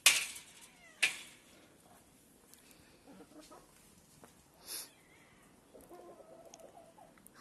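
Four kittens and adult cats meow in scattered, faint cries, some higher and some lower, spread over several seconds among sharp knocks and a quiet background.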